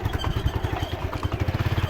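A motorcycle engine labours up a steep hill road near Shimla, with a steady pulsing low-end throb and some mechanical clatter running through the full two seconds.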